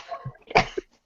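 A single short, rough cough from someone coughing out smoke, close and fairly quiet, with a small throat sound just after it.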